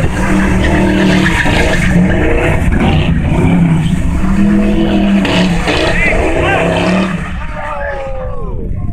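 Firebird or Mustang doing donuts on dirt with worn-out tires, a loud continuous engine roar with squealing, skidding tires close by, voices shouting over it, and a rising squeal near the end.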